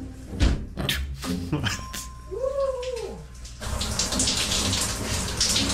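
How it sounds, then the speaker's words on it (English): Water runs from a shower inside an RV, starting with a sputter and a brief rising, whistling tone from the pipes, then settling into a steady, close hiss of spray. "Having a proper shower is just one perk I've been enjoying in the RV."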